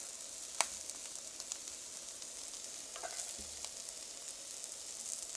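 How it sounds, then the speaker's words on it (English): Pepperoni fries in a pan for a pizza omelette, a steady soft sizzle with a couple of sharp clacks from stirring, close and even. "So I'll add in my pepperoni. Just get a little bit of cook on that"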